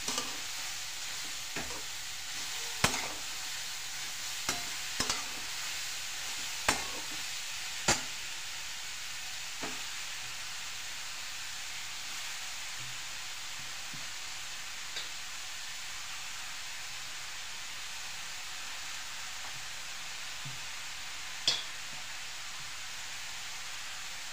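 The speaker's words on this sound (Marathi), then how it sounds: "सर्व किस असा सुकलेले गाजराचे सगळे परतून घ्यायचे।" Grated carrot sautéing in hot ghee in a pan gives a soft, steady sizzle with occasional sharp clicks of a spoon stirring against the pan. It is close and fairly quiet, with no talking.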